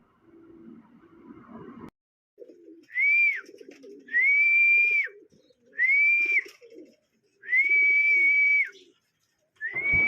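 A racing pigeon on a house roof gives repeated soft cooing calls, four or five drawn-out phrases in steady rhythm. Quiet rustling and small movements fill the gaps.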